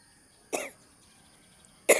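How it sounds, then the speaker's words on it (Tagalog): Two short, sharp coughs from one person, about a second and a half apart, close and fairly quiet against a still background. "May ubo na rin ako."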